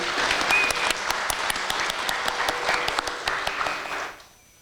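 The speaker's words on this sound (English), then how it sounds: "Let's give a big round of applause for our esteemed guru." Audience applause for an esteemed Kuchipudi dance guru at a Rangapravesham stage debut, a dense, steady clatter of many clapping hands that carries on for about four seconds, then quickly dies away.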